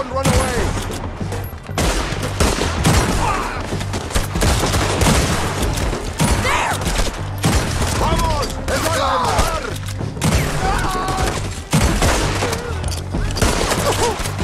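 Loud gunfire from a Red Dead Redemption 2 shootout comes as repeated sharp bursts and rapid volleys, close and forceful, with brief gaps between clusters and voices shouting over the fight.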